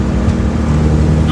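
A Mazda Miata engine fitted with a cheap race exhaust header drones steadily at a low, loud rumble throughout, sounding like in-car cruising with continuous road and wind noise.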